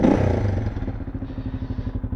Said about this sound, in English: Stock exhaust, but the core was hollowed out, so it's a little bit louder.